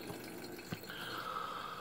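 A thin stream of water falls and drips inside an anti-gravity water droplet hourglass air purifier, giving a faint, steady trickle with a soft drip near the start.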